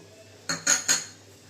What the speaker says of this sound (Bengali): তো আমি কাজু বাদামটা চাল মগজটা একটু বেটে নিচ্ছি